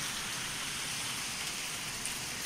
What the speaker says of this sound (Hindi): और अभी हो रहा है बाहर जोरों से बारिश